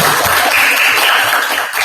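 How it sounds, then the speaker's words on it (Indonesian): Classroom applause for two students at a junior high school, a steady dense wash of many hands clapping together, close and loud, lasting the whole moment without talk. "kita beri tepuk tangan kepada Amel dan Cahyani"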